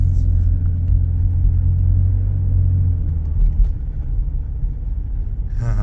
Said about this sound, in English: For the moment the car is running rough.